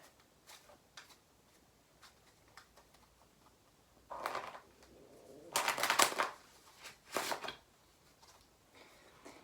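A deck of playing cards being shuffled during a card trick, quiet soft riffling bursts in the middle with faint light ticks before and after.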